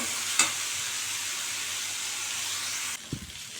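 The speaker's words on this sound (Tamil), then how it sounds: "பாவக்காய் நல்லா வேகிற அளவுக்கு இது மாதிரி கிளறி வேக வச்சுக்கலாம் ஒரு 10 நிமிஷத்துக்கு." Bitter gourd frying in a pan gives a steady, close hiss of sizzling oil. A sharp scrape of stirring cuts in early, and a couple of softer knocks come near the end as the sizzle drops away.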